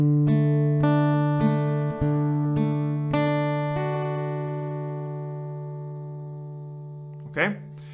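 Acoustic guitar picks the D part of a song, a handful of plucked notes over an open ringing low string, slowly decaying, with a short squeak near the end.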